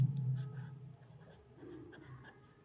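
A pen writes on paper while a class 10 statistics problem is worked out, making faint scratchy strokes close by in a quiet room, with a soft low thump at the start.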